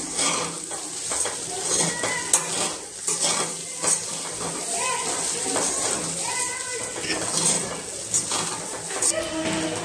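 Kanda pohe, flattened rice with chopped coriander and a little sugar, is stirred and mixed in a pan, giving continuous close scraping and clinking of a spoon against metal with a faint sizzle underneath.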